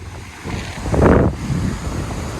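Blustery wind roars over the microphone while surf rolls in, swelling to a louder crash in the middle before easing back to a steady rush.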